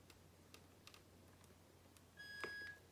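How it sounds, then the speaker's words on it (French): A Bluetooth BT-S2 motorcycle intercom gives a single short electronic beep as it is switched on, faint and brief against a quiet background with a few soft clicks. "il y a eu un bip, je sais pas si vous l'avez entendu"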